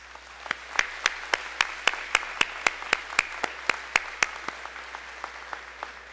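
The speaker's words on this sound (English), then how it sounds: "how about a round of applause" Evenly spaced, sharp claps at a graduation ceremony, roughly four per second, moderately close and fairly quiet, with no voices over them.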